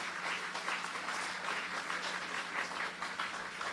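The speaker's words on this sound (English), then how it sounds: "Give him a round of applause." An outdoor crowd at a road renaming ceremony claps in a steady, fairly faint wash of many hands with a low hum underneath and no talk over it.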